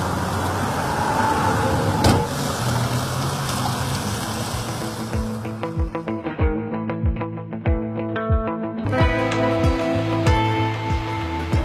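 A car pulls away on a road in Ingushetia, its engine growing louder over the first half, then giving way to a rhythmic series of thumps and hum as it drives off.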